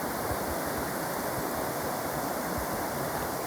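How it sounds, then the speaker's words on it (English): A waterfall on the climb up Mount Moosilauke, heard as a dense, unbroken rush of falling water that stays steady and full throughout with no voices over it. "This beautiful waterfall."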